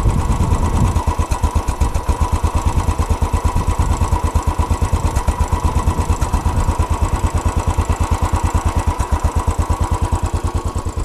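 A cold Royal Enfield Bullet 500 Classic motorcycle idles alone at close range, its single-cylinder engine thumping in a slow, even, regular pulse with mechanical clatter, loud and steady throughout.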